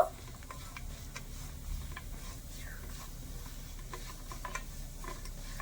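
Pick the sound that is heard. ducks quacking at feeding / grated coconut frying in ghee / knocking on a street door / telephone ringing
grated coconut frying in ghee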